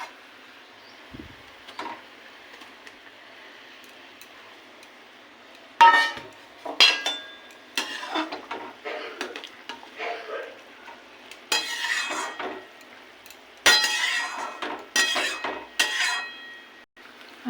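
Pieces of hilsa fish dropped into a simmering eggplant curry broth in a pot, with intermittent clatter of a utensil and bursts of bubbling and stirring that come and go against a quiet background.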